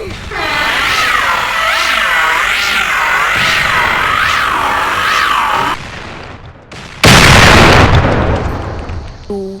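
Explosions in the Roblox game Mortem Metallum: a sudden loud blast cuts in late after a stretch of wavering game tones, followed by a brief dip and a decaying rumble.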